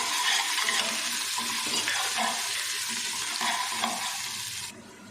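Steady sizzling of garlic and ginger frying in a pan, a dense hiss with occasional stirring scrapes, continuous and close, dropping off at the very end.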